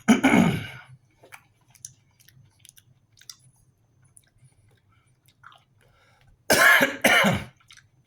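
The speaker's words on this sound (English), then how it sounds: "I'm sorry about that coughing." A couple of sharp coughs, one at the start and a double burst near the end, separated by quiet with faint small clicks.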